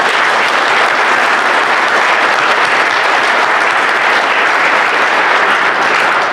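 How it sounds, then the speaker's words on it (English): Loud, sustained audience applause fills a banquet hall at an awards dinner, a dense, unbroken wall of clapping from many hands at close range. "let's give them a round of applause"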